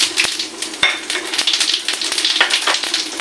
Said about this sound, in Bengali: দেখুন এবারে আমি কড়াইতে দিয়ে দিচ্ছি জিরে ফোড়ন দিয়ে দেবো।